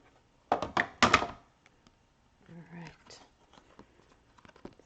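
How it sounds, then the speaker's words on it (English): A papercraft card thumping through an embossing machine, a few heavy clunks near the start followed by a softer mechanical rolling and scattered light taps, close and otherwise quiet. "I love how deep the new embossing machine really works."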